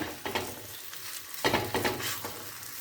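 A lentil-stuffed paruppu poli flatbread sizzles on a hot pan, soft frying hiss broken by a few sharper bursts and light scraping, close and fairly quiet with no talk.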